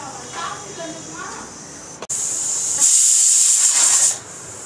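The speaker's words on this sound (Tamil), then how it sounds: "குக்கர் விசில் வந்துருச்சு" Pressure cooker cooking black rice lets off a loud, sustained whistle of escaping steam in the second half, preceded by a softer hiss and a person speaking.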